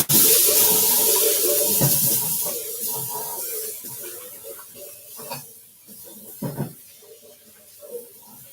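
A bowl is washed under a running kitchen tap during a cooking class. The loud rush of water at the start tapers off, broken by a few clinks and knocks of the bowl.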